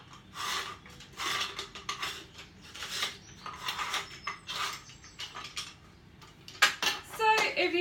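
Metal part being screwed onto a meat mincer while making homemade sausages, a series of close ratcheting, clanking and grinding bursts with short pauses between turns.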